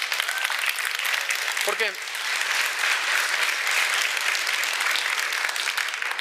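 Congregation at a Spanish-language church service applauding steadily throughout, dense sustained clapping filling the room, with a brief spoken word from the preacher cutting in near the middle.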